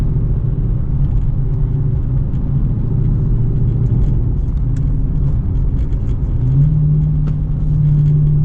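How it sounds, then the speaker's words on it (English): A Dodge Challenger R/T with a six-speed manual gearbox cruises with a deep, steady engine hum and exhaust drone, loud and close, the pitch shifting slightly near the end, with no talking. "It's down in 4th, humming along, nice exhaust note"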